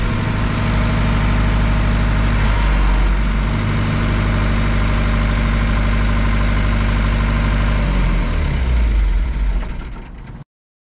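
A tractor engine idles steadily and loudly during dead tree removal, a low, constant rumble with a slight shift in pitch partway through before it cuts off abruptly near the end, with no talking.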